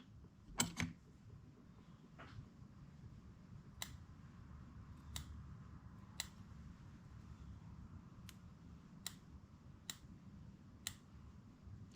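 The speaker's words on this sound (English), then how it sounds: "I'm just going to take my scissors" Sharp, isolated clicks ring out every second or so as scissors snip and trim gasket material, over a steady low background hum.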